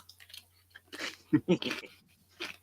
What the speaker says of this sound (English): I will instruct Funkwell to crunch louder.